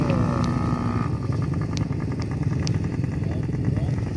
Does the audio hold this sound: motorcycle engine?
yes